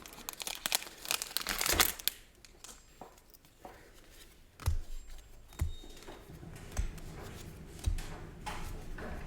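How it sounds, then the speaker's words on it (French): Gundam card game booster packs torn open by hand, with loud crinkling foil and sharp ripping near the start, then scattered rustles and crackles of wrapper handling, close up. "Pas toujours très simple d'ouvrir les boosters comme ça."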